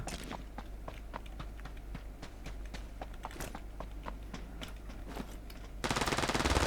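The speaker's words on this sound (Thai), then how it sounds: "เพื่อนเขายิงกันจะเป็นจะตาย" Gunfire in a video game: irregular sharp shots and short bursts crack out at moderate distance over a low background rumble, followed by a sudden louder wash of noise at the end.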